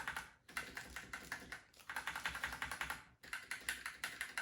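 Rapid typing clicks on a Razer Special Edition keyboard in close bursts, with brief pauses between flurries of crisp, clattering keystrokes.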